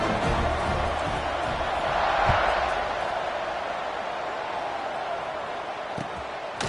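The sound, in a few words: football stadium crowd cheering after a scoring drive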